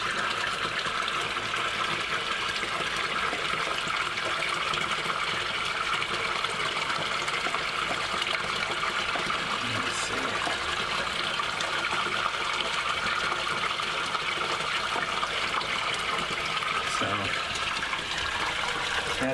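A pond return pump feeding a custom above-ground pond, a steady close rush of splashing, gushing water that runs unbroken throughout, with someone talking over it at times.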